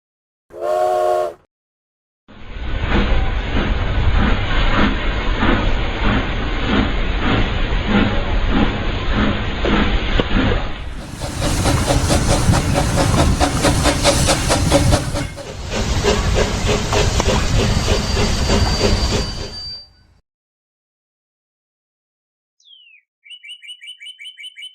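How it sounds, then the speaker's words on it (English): Loud video game steam engine hissing with rhythmic mechanical chuffing and clanking, shifting in tone partway through, then cutting out to near silence with faint chirps. "All that hissing and clanking on the way here has driven me crazy."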